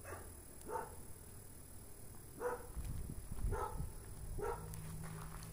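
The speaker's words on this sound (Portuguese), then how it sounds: "Quando o cachorro late é que sentiu." A dog barks at a house at night, five or six sharp single barks spaced about a second apart at moderate distance, with faint shuffling footsteps nearby.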